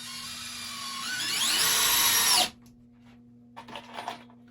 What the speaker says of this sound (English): it is willing to countersink these really rapidly with almost no effort